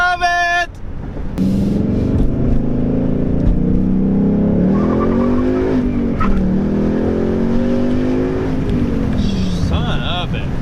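A 2018 Ford Mustang GT accelerates hard, its V8 rising in pitch through the gears in a loud, close roar with brief dips at shifts, after a short opening tone.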